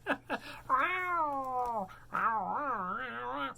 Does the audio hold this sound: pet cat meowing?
yes